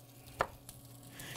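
Knife chops on a cutting board holding meat and vegetables, two sharp isolated thuds about a second apart with a faint tap between, quiet under a low background hum.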